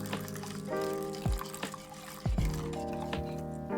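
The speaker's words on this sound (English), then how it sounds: "Slowly pour the hot milk into the egg mixture while whisking constantly." Hot milk is poured slowly into an egg mixture for cream puffs while being whisked, giving a soft continuous liquid pour with clinks and taps from the utensil and bowl, close and fairly quiet.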